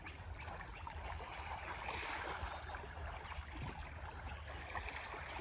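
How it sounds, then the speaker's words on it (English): Small river waves lap at a quiet shore beside a campsite near the Chesapeake Bay. The water makes a soft, continuous wash with gentle splashes, low and fairly faint, with no voices. "You can hear the waves lapping at the shore"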